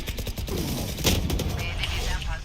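Rapid gunfire from a Valorant match, a dense burst of close, sharp shots rattling over a steady game background as a player talks.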